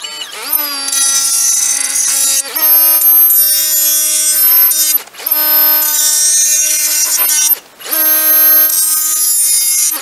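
An AEG BMMS18SBL-0 subcompact cordless angle grinder works a surface, a loud, close, high whine in three long passes separated by short breaks as the tool is lifted and reapplied, with no voices.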